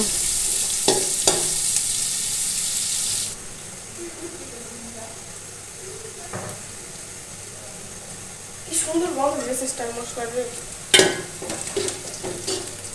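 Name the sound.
chopped onions frying and stirred in a pan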